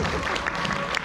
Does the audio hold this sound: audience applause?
yes